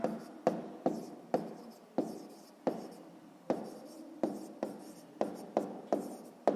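A pen writes a maths answer on paper close by, a string of short scratchy strokes spaced about half a second apart, each fading quickly in a quiet room.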